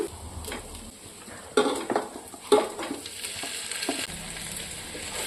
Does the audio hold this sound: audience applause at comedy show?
no